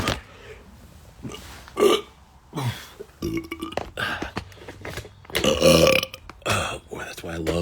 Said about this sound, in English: Them burps is good.